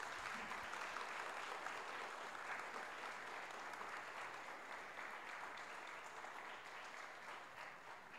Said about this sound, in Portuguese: Peço uma calorosa salva de palmas.